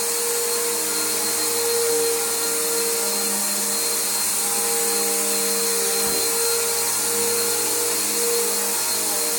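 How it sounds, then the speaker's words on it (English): A Bissell Powerforce bagged upright vacuum cleaner runs continuously with a loud, steady motor whine and whirring tones, briefly dipping in pitch around the middle as it is pushed along; no one speaks. "a lot of people love this vacuum cleaner and they like to see it being used."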